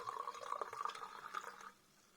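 Yellow Huffcap perry poured out of a bottle into a glass, a quiet gurgling liquid stream with small splashes for about a second and a half before trailing off into near silence.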